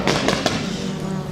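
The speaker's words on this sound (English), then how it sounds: "Sounds like there's a firework display going off." Fireworks crackle and pop near the finish line of a rallycross race at Älvsbyn, Sweden, a loud burst of sharp bangs that fades into a rushing roar.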